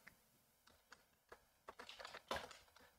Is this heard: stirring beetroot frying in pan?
no